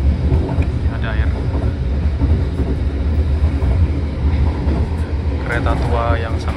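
Rumble and rattle of a 1966 KA Bengawan economy train still running in 2025 between Jogja and Jakarta, heard from inside a carriage with a steady low drone and occasional clatter, under intermittent voices.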